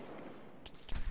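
Gunfire bursts in the military shooter game Arma 3, a couple of short sharp reports at the end after a quieter stretch, fairly distant and punchy.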